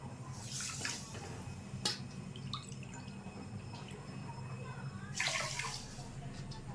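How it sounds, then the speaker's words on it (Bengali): Two bowls of water are poured onto a bowl of sugar in a pot to make sugar syrup. The result is two short, faint splashing pours several seconds apart, with quiet room noise in between. "এখানে 1 বাটি চিনি দিলাম আর 2 বাটি জল দেবো।"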